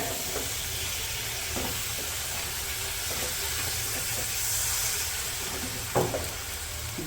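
Flat beans and potatoes are tipped into spices frying in a pan, bringing a dense steady sizzle and hiss throughout, with a few light scrapes and clinks of stirring.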